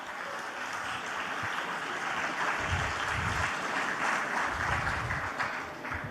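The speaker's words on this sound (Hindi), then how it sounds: "तालियां आप सभी के लिए।" Audience at an IIM Nagpur leadership talk breaks into sustained applause, a dense wash of clapping from a seated crowd, steady and fairly distant, with no voices over it.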